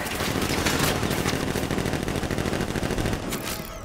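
Turrets fire nonstop in Batman Arkham Knight, a loud, dense rapid-fire rattle that holds for several seconds before it thins out near the end.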